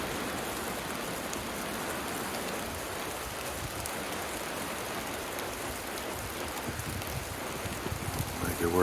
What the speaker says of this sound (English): Got a little bit of drizzling, but that's okay.